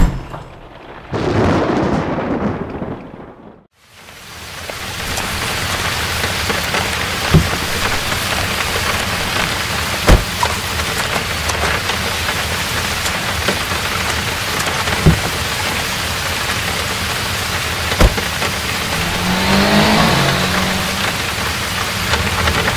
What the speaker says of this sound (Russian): И поторопись, начинается дождь.